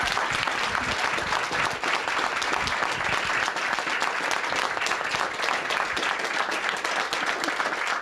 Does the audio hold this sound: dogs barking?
no